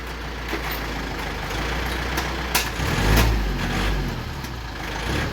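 A Yanmar tractor engine runs close by in a field in Khon Kaen, a steady low diesel rumble that swells briefly as it is revved slightly, with a few clanks and knocks over the drone.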